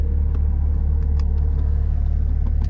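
A car engine rumbles low and steady close by, running evenly throughout with no talking and only faint clicks on top.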